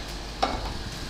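Soft sizzling from food frying in a pan, steady and close, with a single quick scrape or clink from a stirring utensil partway through.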